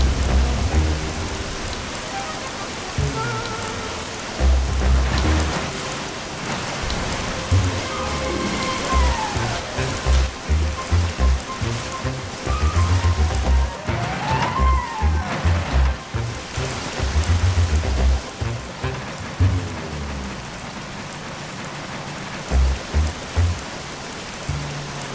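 Rain pours in the Bee Movie video game, a steady hiss of falling drops with low thuds and rumbles woven through, loud and continuous throughout.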